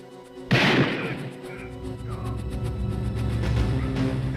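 A single sharp, loud gunshot in a movie gunfight scene, followed by a long rumbling echo and background din.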